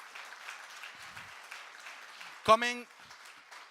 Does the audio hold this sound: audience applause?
yes